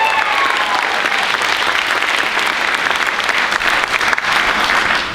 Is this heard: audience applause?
yes